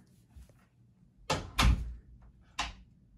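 A household door in a home in Alaska, opened and shut with a few sharp knocks and a heavier thud close by, separated by quiet pauses.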